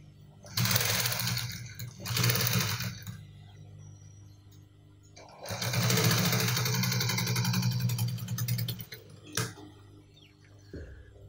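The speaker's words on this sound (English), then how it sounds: "Just take your time and just stitch" Sewing machine stitching along a lapel, running in three bursts of fast, motor-driven clatter separated by short pauses, close and clear, with a light click near the end.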